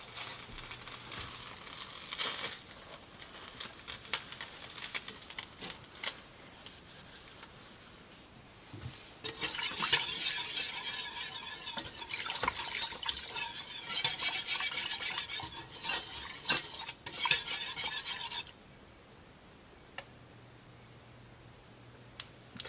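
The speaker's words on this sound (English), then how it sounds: "Stir that in and bring it back to a boil." Half and half being stirred into a pot for a church potluck dish, a rasping scrape of spoon against the pot that starts quiet, grows loud and steady for several seconds, then stops abruptly.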